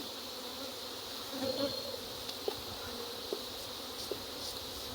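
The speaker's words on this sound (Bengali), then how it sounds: "দেখেন মৌমাছি, প্রতিটা বক্স ভর্তি মৌমাছি।" Honeybees drone in a steady, close buzz around a row of wooden beehive boxes on an outdoor honey farm, with a few soft knocks and rustles over the continuous hum.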